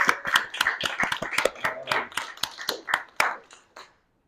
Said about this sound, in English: So let our round of applause for Federico.